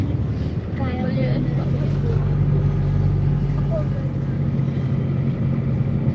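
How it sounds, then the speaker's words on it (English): Diesel engine of a 1998 Nissan Terrano 4x4 truck, a steady low idle rumble with a faint tonal hum, close and continuous while people talk over it. "Nice little truck, diesel engine."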